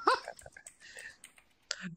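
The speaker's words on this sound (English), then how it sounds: "You hear the click-clack of my keyboard?" Computer keyboard typing comes through as a few quiet, scattered clicks and clacks from the keys, faint and irregular, with a voice murmuring near the start.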